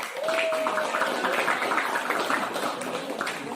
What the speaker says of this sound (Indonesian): Oke, tepuk tangan dong buat Erik.